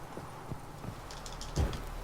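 Horse hooves clip-clop at a steady walking rhythm in The Witcher 3 video game, moderately close, with no talk over them.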